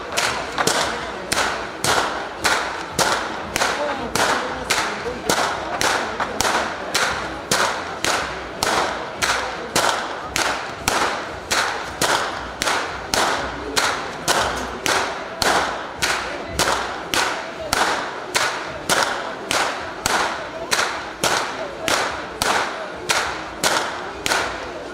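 Carnival whip crackers from a Haloze village crack whips in a fast, steady rhythm of sharp, loud snaps, repeated dozens of times at an outdoor Kurentovanje procession in Ptuj, with crowd noise underneath.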